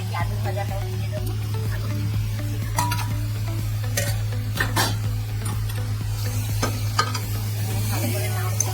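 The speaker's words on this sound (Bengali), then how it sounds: "ভালো করে নাড়বো।" Masala chicken with fried potatoes is stirred in a pan with little oil, the spoon scraping in repeated strokes over a low, steady sizzle and hum.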